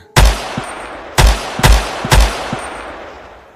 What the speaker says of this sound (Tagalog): Sunod-sunod na putok ang pinakawalan ni Robby.